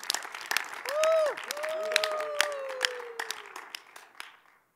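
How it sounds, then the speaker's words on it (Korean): An audience at a Christian workplace gathering applauds with dense, steady clapping for several seconds, joined by a few rising whistles or cheers, before the applause thins out and stops. "박수 좀 칩시다."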